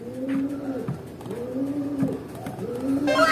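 A racing pigeon, back from a storm and being fed by hand, coos three times in slow, rolling phrases at close range, with a soft chirp near the end.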